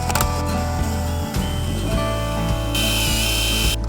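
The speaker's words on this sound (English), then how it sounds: "Let's put the holes in for the mantel." A loud power drill whirring, pausing briefly, then spinning up again into a higher-pitched bore as it drills a hole in a wall for a fireplace mantel bracket, with no talking.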